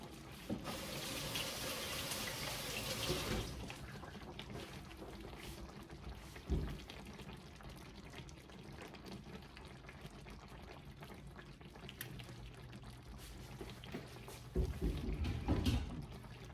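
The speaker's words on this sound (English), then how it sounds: "let me wash my hands real quick." Kitchen tap water running into a sink during handwashing, a soft steady gush that swells early then continues faintly with occasional clunks and splashes, quiet and without talk.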